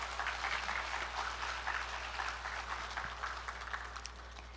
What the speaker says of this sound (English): could you please give Riway International a round of applause?